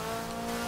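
A car driven in the racing game Forza Horizon 4, its engine holding a steady, loud drone with a faint hint of tire noise, brief and continuous with no talking.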